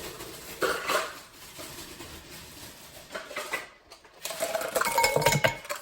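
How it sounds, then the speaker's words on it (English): Chunks of ice dropped and stirred into a Kool-Aid pickle slushie, scattered clinks and knocks with a busier rattling clatter toward the end, close by. "A few more chunks of ice."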